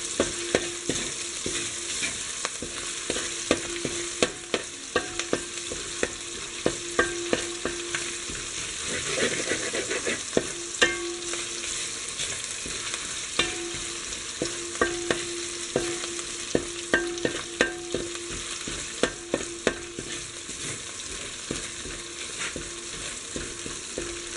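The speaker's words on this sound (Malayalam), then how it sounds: "അതിലേക്ക് ജിഞ്ചർ ഗാർലിക് പേസ്റ്റ് ആഡ് ചെയ്യുക. ഒന്ന് ഫ്രൈ ചെയ്തെടുക്കുക ചെറുതായിട്ട്." Ginger garlic paste frying in hot oil in a pan gives a continuous sizzle, with frequent sharp clicks and scrapes from stirring throughout, heard up close and without talk.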